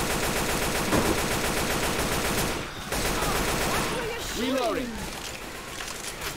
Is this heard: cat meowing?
no